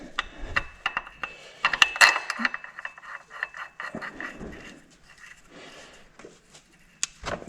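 Ratchet clicking in bursts as a new crank bolt is threaded into an R53, close and moderately loud, with intermittent metallic mechanism noise and pauses between strokes.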